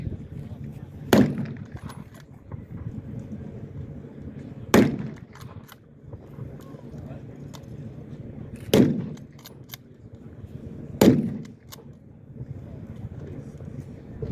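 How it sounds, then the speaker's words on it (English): At an outdoor small arms demonstration beside a military vehicle parade, a WWII bolt-action .30-06 rifle fires four sharp shots spaced a few seconds apart, each cracking loudly over background crowd murmur. "Go ahead, soldier, fire when you're ready, please."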